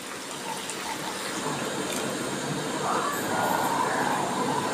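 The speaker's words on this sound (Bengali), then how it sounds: "এবার আমি দিয়ে দিচ্ছি জল" Water poured into a pot of crab curry with potatoes, a continuous rushing splash that grows slightly fuller as the pour goes on, close and steady with no talk.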